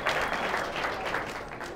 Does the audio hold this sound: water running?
no